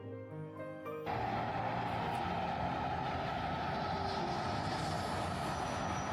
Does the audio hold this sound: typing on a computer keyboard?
no